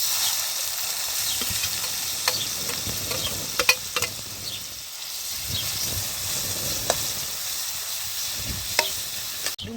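Spring onion sizzles in hot oil with cumin, curry leaves and asafoetida, a steady close frying hiss broken by scattered clicks of a spoon stirring in the pan, with a brief dip in the middle.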